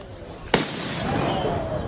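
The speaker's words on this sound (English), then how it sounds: "It's a big explosion on a homeless guy." A firecracker thrown on a street bursts with one sharp, loud bang partway through, followed by a lingering rumble and crowd-like noise; speech-like voices sit under the aftermath.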